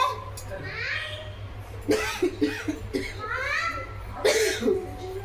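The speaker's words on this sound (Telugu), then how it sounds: "బాగా జలుబు దగ్గుగా ఉంది, అందుకనే దగ్గు వస్తుంది." Several sharp coughs from someone with a heavy cold come in short bursts, mixed with a voice and some nearby chatter.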